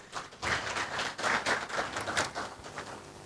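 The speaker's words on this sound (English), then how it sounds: "Shall we give her another round of applause" Crowd applause at a formal World Consumer Rights Day commemoration ceremony: steady, fairly loud clapping from many hands, sustained for a few seconds and tapering slightly toward the end.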